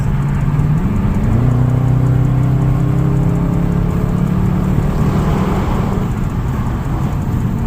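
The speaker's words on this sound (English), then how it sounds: "Cars, you know, they try and fly by you." Cars passing on a road at night, a continuous loud rumble and whir of traffic with engine tones gliding in pitch as vehicles go by.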